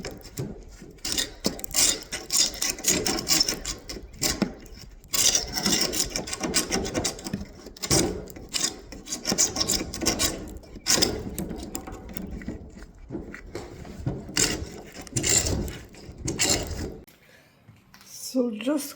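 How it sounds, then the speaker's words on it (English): A scraper works old paint off a brick window well in repeated rough, rasping strokes that come in uneven bursts with short pauses, loud and close before the scraping stops near the end. "So just scraping the bottom and here under the window"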